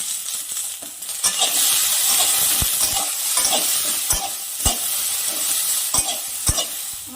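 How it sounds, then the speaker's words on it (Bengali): Drumstick pieces (sajne data) frying with turmeric and a little salt in a pan: a continuous loud sizzle punctuated by sharp clacks of a spatula stirring against the pan at irregular intervals. "আমার সজনে ডাঁটাটা হালকা ভাজা হয়ে গেছে"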